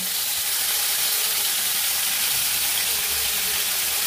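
Prawns dropped all at once into hot cooking oil sizzle in a steady, dense hiss that stays loud and even throughout, with no pauses.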